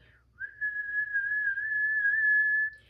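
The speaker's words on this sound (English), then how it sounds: "we're going to whistle" A single sustained whistled tune, clear and fairly quiet, holding a steady pitch with slight wavers for about two seconds before stopping.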